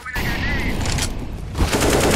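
Rapid gunfire in a first-person shooter game, bursts of loud close shots rattling in quick succession, with a brief lull before another sharp volley.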